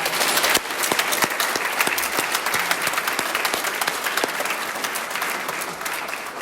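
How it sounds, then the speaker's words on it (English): A room full of people at an AA celebration meeting breaks into sustained applause, a dense crackle of many hands with sharp individual claps standing out near the start, fading slightly toward the end. "let's give tonight's speakers another round of applause"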